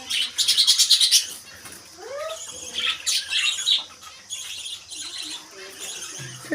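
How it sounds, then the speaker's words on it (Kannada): Caged lovebirds chirp and tweet in quick bursts of sharp, high calls, close and lively with short pauses between flurries. "ಮತ್ತು ಇದು ಲವ್ ಬರ್ಡ್ಸು"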